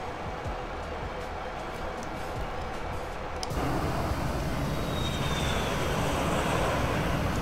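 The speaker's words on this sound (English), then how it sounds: "X-Plane does that noise of like that jet flying over when you go to an outside view" Jet aircraft roar in the X-Plane flight simulator, a steady broadband rushing that grows louder partway through as the view shifts outside, with a thin rising whine near the end.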